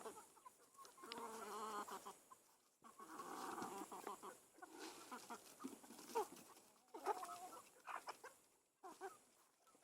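A mother hen clucks softly and repeatedly, in low, close, irregular bursts at a quiet level.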